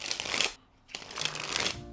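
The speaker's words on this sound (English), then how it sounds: "Do some actual Pharaoh shuffles with the bridge." Playing cards being shuffled with riffle and bridge shuffles after a fanning powder treatment: two bursts of crisp fluttering riffle, close and fairly loud, split by a short quiet gap, with no talking.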